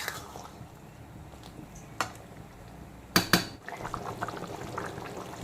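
Mourala fish curry with bottle gourd, potato and mustard-poppy paste simmers and bubbles in a pot, with a low continuous boil broken by a few sharp clinks of a utensil against the pan.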